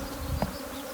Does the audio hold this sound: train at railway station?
no